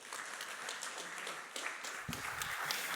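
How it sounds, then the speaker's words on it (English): Applause from an audience, a steady wash of clapping hands at moderate distance that holds throughout. "Let's give them a round of applause."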